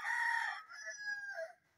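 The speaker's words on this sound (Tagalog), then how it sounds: "Rooster." A rooster crows once, a single drawn-out cock-a-doodle-doo heard from a moderate distance in otherwise quiet surroundings.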